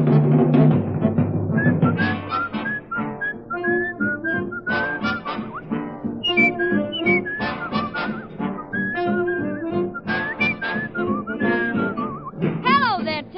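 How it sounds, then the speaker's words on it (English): Melodic whistling in a 1940 band radio recording, a bright tune carried over the full swing band accompaniment throughout. "What you doing, whistling just to scare the ghosts away?"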